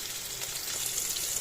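Chopped garlic and onion sizzle in hot oil with whole cumin seeds for Bengali matar dal, a steady close crackle and hiss that goes on without a break.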